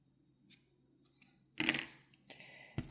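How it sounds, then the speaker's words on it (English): Cream-colored yarn is snipped with scissors in a quiet room: a few faint clicks, then a sharper crunchy cut and a couple of brief rustling snips close by. "There is a speck of kind of cream colored yarn, so I am going to cut my yarn here."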